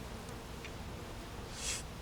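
Honeybees hum softly around an opened beehive during a hive inspection, with frames holding honey and pollen; a faint, steady drone with a brief louder swell as a bee passes close.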